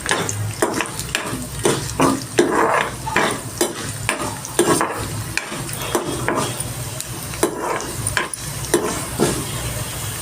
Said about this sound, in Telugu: శనగపప్పు, జీలకర్ర, నువ్వులు వేసి వేయించుకుందాము.